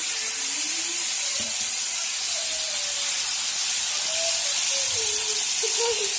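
Fish frying in hot oil in a pan for a Kerala-style fish fry, a steady, fairly loud sizzling hiss that holds throughout, with faint scattered sounds beneath.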